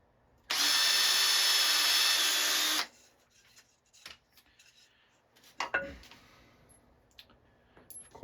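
A power drill whines loudly and steadily for about two seconds while boring a screw hole in a wooden part. Scattered clicks and handling knocks of tools being set down follow.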